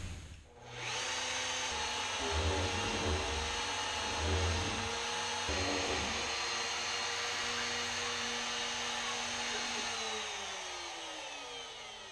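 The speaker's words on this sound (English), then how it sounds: "now we're ready to drill our two mounting holes" A loud, steady machine whine from a CNC router drilling mounting holes in a sign, its spinning motor and cutting noise running continuously, pitch shifting slightly as the tool works.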